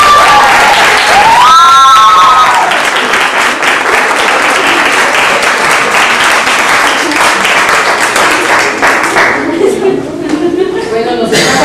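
An audience at a high school oratory contest bursts into loud applause that gradually thins out, with a few tonal cries and whoops early on and talk picking up near the end.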